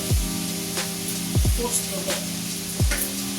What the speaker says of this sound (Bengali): সকালবেলা তেল ঢেলে দিয়েছি দিয়ে এখন রান্না হচ্ছে